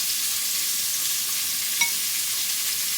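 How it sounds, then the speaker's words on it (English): Chopped vegetables sauté in a pan for roasted butternut squash soup, giving a steady, even sizzle throughout with one faint tap of a utensil partway through. "my vegetables over there are sautéing very well"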